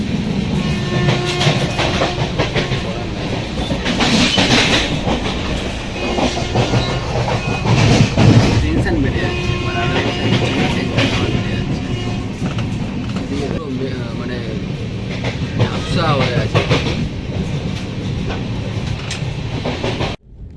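Express train rolling along rails toward New Delhi, a continuous loud rumble with clickety-clack wheel beats and hiss heard from inside, with people talking over it throughout.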